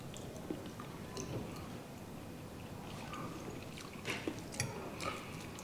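Someone chewing edible flowers up close, with soft, faint crunching and squishing bites that come irregularly and grow more distinct near the end.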